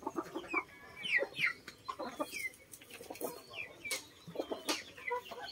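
Heritage chickens cluck and chatter in a pen, with overlapping soft clucks and short squawks from several birds in an irregular, busy stream at moderate distance.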